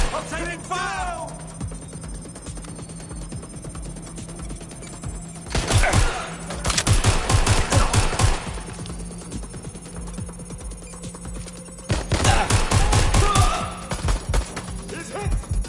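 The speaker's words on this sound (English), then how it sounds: "I'm taking fire." Gunfire in the Watch Dogs: Legion video game, two dense bursts of rapid automatic shots loud and close, separated by quieter stretches of background game sound with a faint ringing tone.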